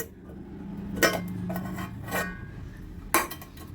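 The lid of a cooled steaming box holding silver carp bhapa comes off with a few light metallic clinks and scrapes against the rim, each short and close, with quiet gaps between.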